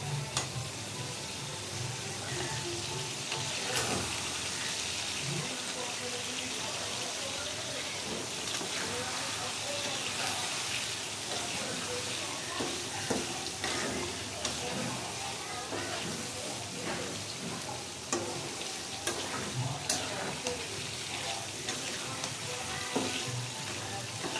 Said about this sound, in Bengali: আমি এই তেলের উপরে এটা রান্না করার চেষ্টা করবো